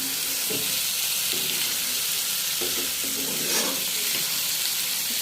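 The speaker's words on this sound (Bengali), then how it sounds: "এবার মাছটা আমরা মিশিয়ে নিচ্ছি মশলার সাথে" Hilsa fish sizzles with mustard spices in a frying pan under a steady hiss, with soft scraping stirs recurring every second or so and no talking.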